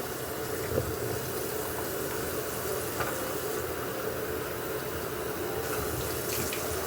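A bathroom tap runs steadily into a sink while a face is washed, a constant close hiss and splash of water with a few small knocks and no talking.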